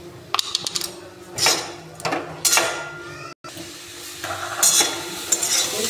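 Grated carrots fry for gajar halwa in a pan, giving a soft sizzle under repeated spatula stirs and metallic scrapes against the pan, close and fairly loud.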